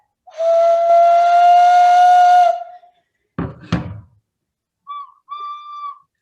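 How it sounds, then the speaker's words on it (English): A handmade ceramic whistle inside a tea kettle sounds one long, steady shrill tone, followed by a few knocks and then two short, thinner whistle bursts. "We found this tea kettle that doesn't have a whistle. And we made ceramic whistles inside."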